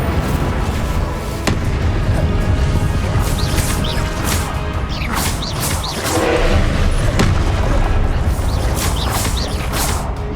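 Incendio fire spell cast in the video game Hogwarts Legacy, one of a rapid string of combat spells, loud and continuous, with whooshing bursts, crashes and creaking impacts layered together.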